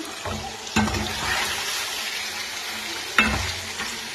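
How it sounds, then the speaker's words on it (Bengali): Paneer frying in a pan sizzles steadily and close, with a few sharp louder crackles and utensil knocks breaking through the broad hiss. "পনিরটা ভাজা বসিয়েছি"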